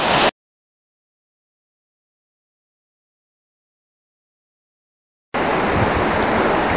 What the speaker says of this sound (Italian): Il rinomato fiume Olona con la sua valle.